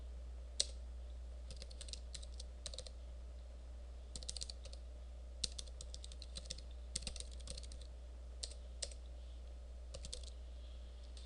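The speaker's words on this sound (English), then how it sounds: "Now type in the web address." Computer keyboard being typed on to enter a web address, quiet clustered keystroke clicks in short bursts over a steady low electrical hum, with no talk.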